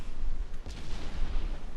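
Booming salvo from the Fuso battleship's main guns in a naval warfare video game, a single heavy rumbling blast over steady background noise.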